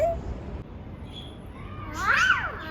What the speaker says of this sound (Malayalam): ക്യാറ്റ് വാ പൊളിക്കുന്നു.